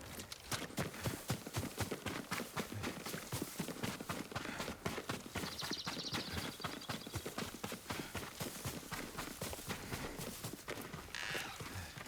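Horse hooves from Ghost of Tsushima pound at a steady fast gallop, loud and close throughout, a dense rhythmic drumming of clip-clops with no audible whinny.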